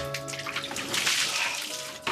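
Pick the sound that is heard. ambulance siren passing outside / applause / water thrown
water thrown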